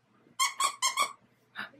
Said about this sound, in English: Does it squeak? Does it squeak?